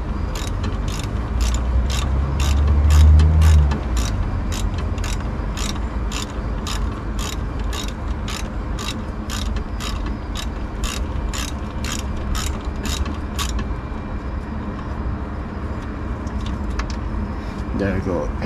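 A ratchet wrench clicks steadily while loosening a brake line at the wheel cylinder of a Ford Fiesta Mk6, its evenly spaced sharp ticks sounding close over a constant low background hum.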